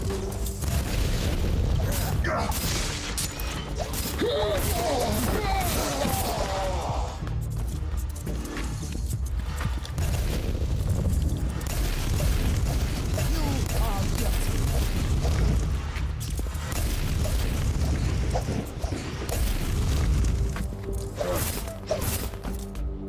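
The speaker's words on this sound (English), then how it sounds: "They actually are bombing this area." Bombing explosions in the Warhammer 40K: Inquisitor - Martyr video game, deep repeated booms and rumbling combat noise running continuously, with a player talking now and then over it.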